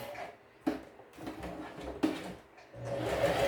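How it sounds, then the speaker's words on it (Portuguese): A sewing machine stitches over a zipper while sewing a toiletry bag, whirring in uneven close bursts with two sharp clunks between runs. "Eu vou passar a costura por cima do zíper mesmo"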